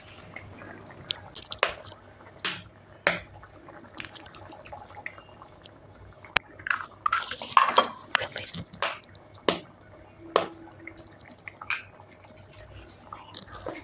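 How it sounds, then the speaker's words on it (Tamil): Eggs cracked and poured into a simmering Tamil egg curry, heard as faint sporadic drips, taps and soft wet squishes over a quiet background. "இது ரெண்டு முட்டை தான் நான் உடச்சி ஊற்றுறேன்"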